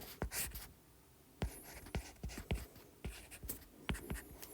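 Marker or chalk strokes writing on a board during a math lecture, a series of sharp close taps and scratchy strokes with short pauses, quiet room, no speech.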